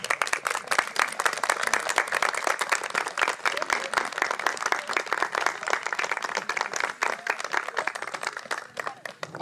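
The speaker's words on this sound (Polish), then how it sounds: "A teraz proszę bardzo jeszcze wszystkich nagrodźmy oklaskami" A crowd applauds at a youth Hubertus riding event at a stud farm, rapid, dense clapping from many people that holds steady for several seconds and tapers slightly toward the end.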